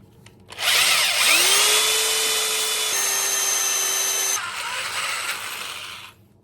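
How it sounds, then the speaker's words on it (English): A power drill bores holes into an LS engine block, a loud close whine that spins up, holds steady for several seconds with a pitch shift midway, then winds down and stops, with no talking. "So I'm gonna keep on drilling."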